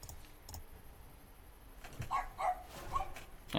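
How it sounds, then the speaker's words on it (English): Dogs bark outside at a distance, a few faint muffled yaps in the second half over quiet room noise and light clicking. "some dogs are barking outside"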